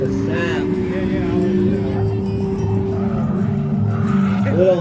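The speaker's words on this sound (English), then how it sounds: "Pretty conservative on the entry, long handbrake drag." A drift car at a Drift Indy competition roars into a corner with a long handbrake drag, its engine droning steadily with a continuous tire squeal, loud and close, while a commentator talks over it.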